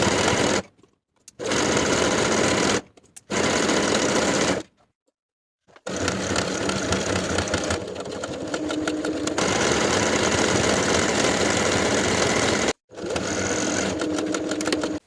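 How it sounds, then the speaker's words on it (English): A sewing machine topstitches a denim skirt in long, loud, steady runs, broken by several short pauses between stretches of stitching. "I'm going to top stitch first on top of my traced line, then just inside the traced line by about 1/4 inch"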